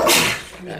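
One short, breathy sneeze bursts out nearby and quickly trails off.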